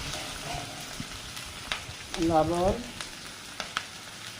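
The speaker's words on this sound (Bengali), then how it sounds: "আমি এবার মশলাগুলো ভালো করে ভেজে নেব" Garlic paste with chili, turmeric and coriander-cumin powder frying in a pan for a katla fish and new potato curry; a quiet sizzle with scattered clicks of stirring, and a voice briefly speaks partway through.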